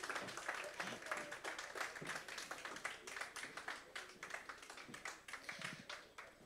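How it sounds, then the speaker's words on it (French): Applause from a convention audience greeting Ghostbusters France on stage at a Retroplay conference, a faint, steady patter of many hands clapping in a large room, with some voices underneath. "je pense que vous pouvez les applaudir encore plus fort"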